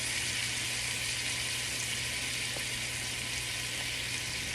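Chicken pieces browning in a big pot make a dense, constant sizzle, loud and close, with faint pops scattered through and no talking.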